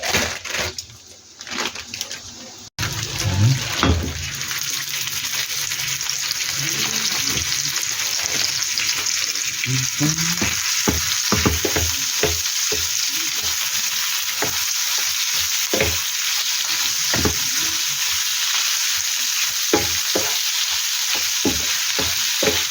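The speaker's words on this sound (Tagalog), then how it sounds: "So ilagay na natin itong ating ground pork" Ground pork sizzling in a pan for spaghetti sauce, with cooked hotdog already in: a loud, steady frying hiss with scattered crackles and pops, broken by stirring and scraping near the start, no talking.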